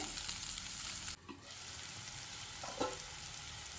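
Salted capsicum fries in a pan with a soft, steady sizzle, broken by a brief quiet gap and a few light stirring clinks, no voices present.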